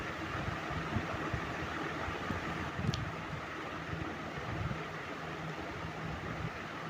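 An air conditioner runs with a faint, even whooshing hum, steady throughout, with a small click partway and no talking.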